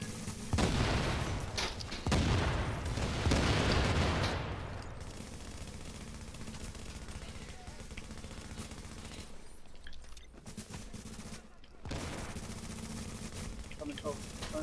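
Gunfire rings out in the Dark Zone of Tom Clancy's The Division, loud bursts of automatic fire in the first few seconds, then a steadier background of combat with voices talking over it.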